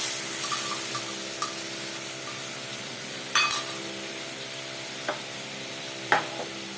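Mustard paste is stirred into a fish curry in a pan, giving a steady low sizzle with a few sharp spoon clinks and scrapes against the pan and no voices.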